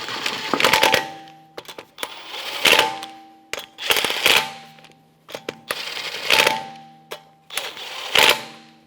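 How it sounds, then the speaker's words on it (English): A ratchet with a 19mm socket snugs the front wheel lug nuts on a 2014-2022 Chevrolet Trax. Five or six bursts of rapid metallic clicking come up close, each separated by a short pause, and no one speaks. "Then we'll get our 19mm socket and we'll just snug them up"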